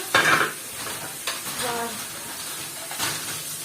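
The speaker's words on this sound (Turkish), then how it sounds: "Şu anda makineme bulaşık yerleştiriyorum." Dishes clink and clatter close by as they are loaded into a dishwasher rack, with short bursts of rattling over a steady hiss of background noise.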